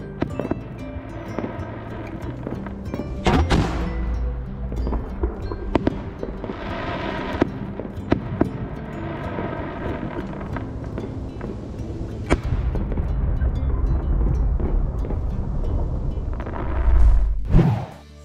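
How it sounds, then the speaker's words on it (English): Fireworks exploding in a continuous, dense barrage of bangs and crackles, with several sharper loud bursts and a heavy rumbling boom near the end, no voices. "Today, fireworks have become an essential part of global festivities."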